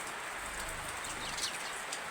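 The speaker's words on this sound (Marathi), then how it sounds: "आता पाऊस चालू झाला" Steady rain falls outdoors by farm fields, a dense even patter that fills the whole short stretch with nothing else standing out.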